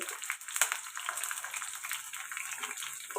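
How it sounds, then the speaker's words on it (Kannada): Onion, tomato and grated carrot fry in hot oil for a poha seasoning, giving a steady, close, hissing sizzle with no voices. "ಇದು ಮೂರನ್ನು ಎಣ್ಣೆಲಿ ಚೆನ್ನಾಗಿ ಫ್ರೈ ಮಾಡ್ಕೊಳ್ಳೋಣ"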